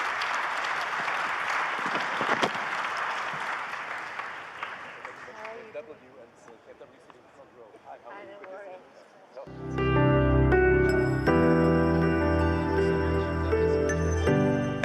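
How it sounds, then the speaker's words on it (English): Audience applause at the Ukraine Recovery Conference opening panel, a broad sustained clatter that thins and fades over several seconds, then gives way to loud orchestral music swelling in for the rest. "This is your applause."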